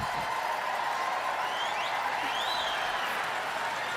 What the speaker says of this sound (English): crowd goes a little wild